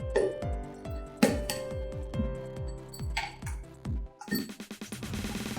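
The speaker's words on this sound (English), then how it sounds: "This is glass lid container. The lid is made of tempered glass." A borosilicate glass food storage container and its tempered glass lid are handled, giving a series of sharp, ringing glass clinks and taps at irregular intervals, close and fairly loud, ending in a cluster of quicker rattling knocks.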